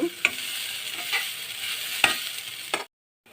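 Semolina fries in ghee for rava laddu with coconut in the pan, a continuous soft sizzle marked by several short scraping stirs before it cuts to silence.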